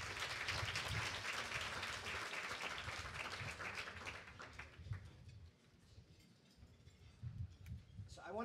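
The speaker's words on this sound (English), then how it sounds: "how about a round of applause for this great panel?" Audience applause for a panel at a talk on disruption and business innovation: full, close clapping that thins out midway, then swells again briefly before fading.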